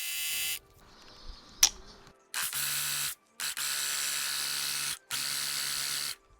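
A hand pump sprayer being primed after flushing out oil-based stain, giving a few short mechanical clicks followed by three long, steady hissing bursts of air and fluid, close and alone.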